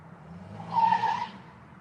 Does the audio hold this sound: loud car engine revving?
yes